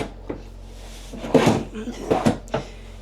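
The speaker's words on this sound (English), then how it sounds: "Soft close on those and they pull shut pretty tight." Soft-close kitchen drawers in a 2026 Dutchmen Astoria Platinum 3403RKP RV slide and pull shut with several soft, dull thuds in close succession, with someone talking over them.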